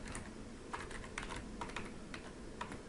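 Someone typing an Excel formula on a computer keyboard, a quiet irregular patter of light key clicks in short bursts against a faint steady hum.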